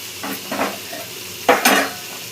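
Vegetables for a vegetable biryani sizzling and frying in a pan, with a few clattering stirs of a spoon against the pan, close and moderately loud with no talk.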